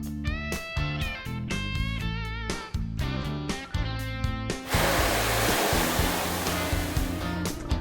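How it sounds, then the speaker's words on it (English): A power washer blasts a 3D rigid foam aquarium background, a loud, steady, close hiss of spraying water that starts midway after a stretch of music and then runs continuously. "the second one is with a power washer"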